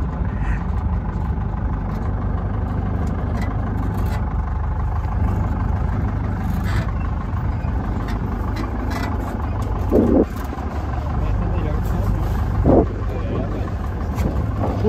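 A Ford F1000 pickup truck's engine drones steadily while driving over rough red dirt on a cattle farm in Mato Grosso do Sul, with occasional rattles and knocks from the bumpy ground, loud and close.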